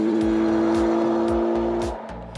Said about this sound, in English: a great induction noise